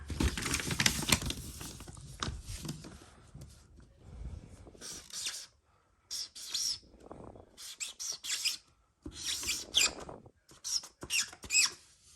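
Marker writing on paper: bursts of squeaky, scratchy strokes in short irregular clusters separated by brief pauses, close and clear, with some rustling handling noise early on.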